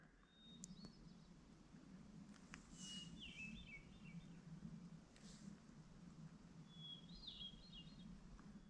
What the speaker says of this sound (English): later identified appropriately as the hermit thrush